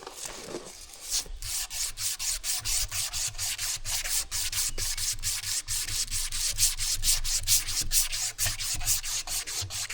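Emery cloth rubbed by hand along a hydraulic cylinder rod from a Mahindra Max 26 XL loader, a steady run of quick, evenly spaced rasping strokes at close range with no talking.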